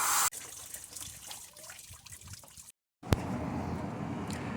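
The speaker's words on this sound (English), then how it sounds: "now we're going to do backwards. This is going to flush out our radiator" Water is forced backwards through a car radiator during a full coolant system flush, making a steady rushing, splashing hiss that cuts out briefly before resuming with a sharp knock.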